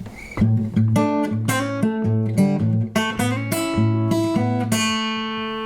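A plucked acoustic guitar plays a bluesy lick of short repeated notes with slides between them, a steady bass note pulsing underneath, close and clear.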